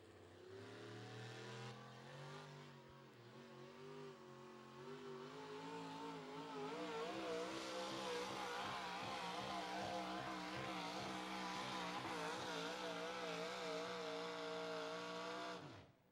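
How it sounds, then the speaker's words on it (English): An alcohol-burning Hemi in a modified 4x4 pulling truck roars loud and sustained, the throttle feathered and pitch wavering and climbing for about fifteen seconds before cutting off abruptly. "Now, Richard was the first one that I seen feather that throttle that far out of the hole."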